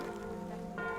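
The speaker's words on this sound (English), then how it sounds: "How about this bell?" Bell struck in Guild Wars 2, a sustained ringing tone with a second strike entering near the end, resonant and fairly close.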